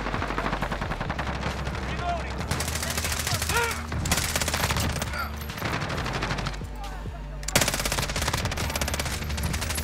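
Rapid bursts of FiNN LMG machine gun fire in Modern Warfare sound in sustained volleys with short pauses, loud and close, alongside other gunfire and faint talk.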